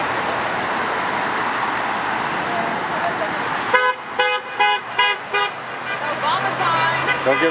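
Car horns honk in a run of about six short toots over steady roadway traffic noise at a roadside election rally, with people talking before the honking.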